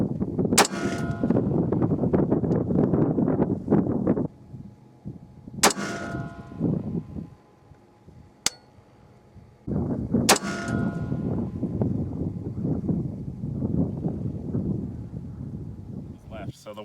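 A rifle bullet, a .223 fired at long range, striking a steel target: sharp metallic clangs and gunshot cracks stand out against steady wind-like noise, with someone talking in between.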